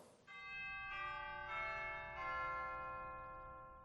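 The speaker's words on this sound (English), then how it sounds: "So we have our chimes, which are real." Real pipe-organ chimes ring out in a few successive struck tones, bright and sustained, each strike layering over the lingering ring of the last.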